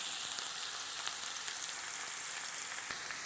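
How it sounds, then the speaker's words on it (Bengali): Close, continuous sizzle of onions frying in a hot pan, with soft crackles and no voices. "পেঁয়াজগুলো একটু ভাজা ভাজা হয়ে গেছে"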